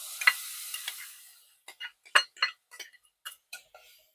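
Onion paste sizzles in a hot pan while a spoon stirs it, giving a steady fry hiss at first and then a run of sharp scraping clinks against the pan, close and fairly loud, with no voices.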